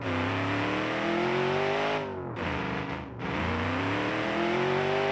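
A V8 offroader engine in BeamNG labors up a hill, a loud droning growl that holds a steady pitch, dips briefly as the revs drop twice, then climbs back to a strained, sustained roar.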